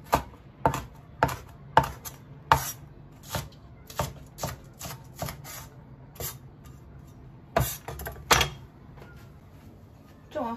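A dull knife chops pickled cabbage and meat on a board, with about a dozen sharp, separate knocks at an uneven pace and short pauses between them, fairly quiet and close.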